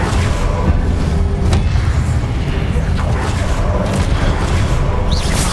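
In Hogwarts Legacy, the Incendio fire spell is cast during a duel, producing dense, continuous booming bursts and roaring rumble that mix with other game combat sounds throughout.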